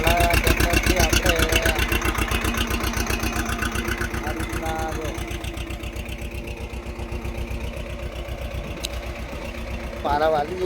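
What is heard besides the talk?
small tractor engine running while making ridges in a field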